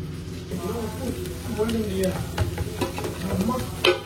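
Egg fries with Maggi masala in a pan, a close crackling sizzle broken by scraping stirs, with a voice talking over it.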